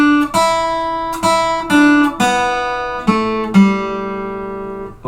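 Guitar plays a short pickup phrase into the first bar of a piece, about seven clearly plucked notes with ringing sustain, close and solo with no talk.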